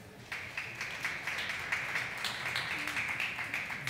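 A crowd claps through a conference talk on revenue management, a steady patter of many hands that holds evenly, slightly distant and roomy.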